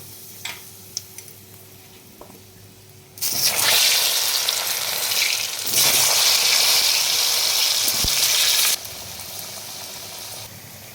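Taro pieces hit hot mustard oil and break into a loud, steady sizzle after a quiet start. The frying hiss swells, eases briefly, then surges again, close and continuous, with no voices.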